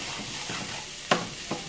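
Meatless ground crumbles are stirred into sauce with sautéed red onions in a hot pan, the soft sizzle running underneath as two scraping strokes of a spoon stand out, the first sharper and louder, all close by and without speech.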